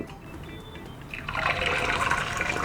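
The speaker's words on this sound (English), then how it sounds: "You should hear that sizzle straight away" An egg frying in hot oil: sizzle starts up about halfway through, a dense crackling hiss that swells and stays steady and fairly close, with no talking.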